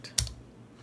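A single sharp keypress on a computer keyboard while a GUI app is being coded, one brief close click followed by quiet room tone, with no talking.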